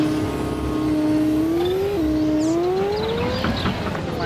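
A JCB vehicle in Farming Simulator 19 drives with a loud, steady engine drone whose pitch climbs smoothly, dips briefly, then rises again under acceleration. Faint chirps sound in the background.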